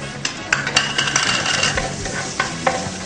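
Diced onions stirred and frying in a pan as the base for a seafood risotto, a steady close sizzle broken by frequent scraping stir strokes, with no talking.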